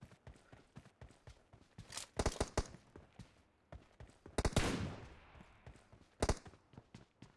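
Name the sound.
gunfire in video game BGMI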